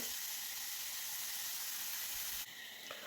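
Onions sautéing in a pan as the base for a potato, carrot and coconut milk stew give a steady, close sizzling hiss that drops slightly near the end, with no talking.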